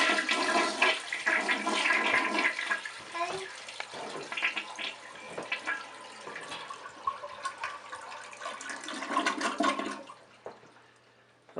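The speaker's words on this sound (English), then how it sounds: "the best way to do that is just to flush." A household toilet flushes to empty its bowl, with the water supply shut off, giving a loud sustained rush and gurgle for about ten seconds that then drains away and fades as the tank fails to refill.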